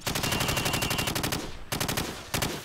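Rapid automatic gunfire fired from the hip in Call of Duty Modern Warfare, loud, close bursts of fast, evenly spaced shots separated by two brief pauses.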